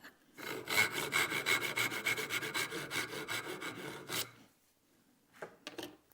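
Hand saw cutting a wooden dovetail joint, about a dozen rhythmic rasping push strokes close up that stop abruptly, followed by a pause and a few short final strokes.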